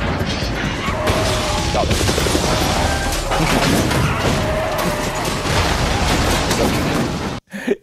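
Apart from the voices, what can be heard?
movie explosion from Bad Boys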